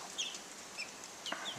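Six young pullets in a backyard chicken coop give short, soft clucks and chirps, a few scattered calls rising over a quiet outdoor background with no talking.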